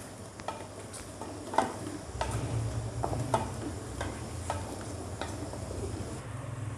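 Yogurt and cream being stirred into chicken karahi off the heat, soft wet stirring with a low sizzle and intermittent clicks of a spoon against the pan, close and fairly quiet.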